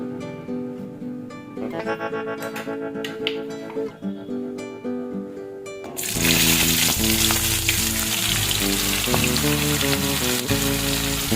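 Food frying in a pan after chicken has been fried, starting as a quieter sizzle under background music, then turning into a loud, hissing crackle that fills the second half.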